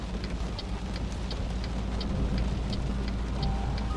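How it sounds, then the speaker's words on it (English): Steady rain on a truck cab during a long-haul drive, a dense continuous patter with a low road rumble underneath and faint periodic ticks, no voices. "will somebody tell that rain to stop?"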